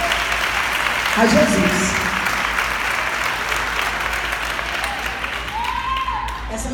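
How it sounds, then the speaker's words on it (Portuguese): A church congregation claps together at a women's congress service, a broad sustained wash of applause with a few brief voices and a short spoken phrase near the start and a faint tone later. "Pode aplaudir"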